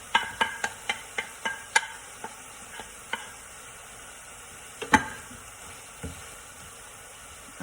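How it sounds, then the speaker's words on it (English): Saltfish being added and stirred into a pot for Jamaican steam cabbage: a run of sharp, evenly spaced clinks and taps from a spoon against the pot, then scattered knocks over a low background hiss, with no talking. "I'm gonna go ahead and add my saltfish before I have my cabbage."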